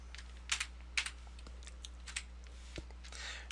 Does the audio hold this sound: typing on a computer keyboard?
yes